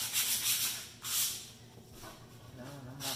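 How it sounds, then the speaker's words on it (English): Sandpaper rubs back and forth over a painted wood sign to distress it, giving soft, breathy hissing strokes in uneven bursts, close by and fairly quiet. "And sand back down over some other little areas there."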